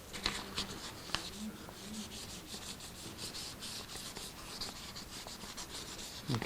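Sandpaper rubbing over the wooden body of a handmade guitar to smooth its edges, a steady close scratchy rasp in rapid back-and-forth strokes, with a couple of light knocks early on.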